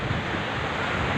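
Strong sea waves driven by high wind pound the coast at Desa Pemukutan, where waves about 3 meters high strike homes; a steady, loud roar of surf and wind buffeting the microphone continues throughout.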